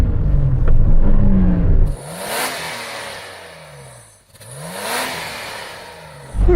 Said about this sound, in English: would you mind just revving up that standard Nissan Patrol